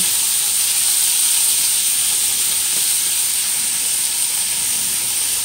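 String beans and mushrooms stir-frying in a pan give a loud, steady, continuous sizzle and hiss without pause, with no talk.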